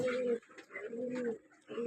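Pigeons coo inside their cages, three low rolling coos in quick succession, close and clear with nothing else heard.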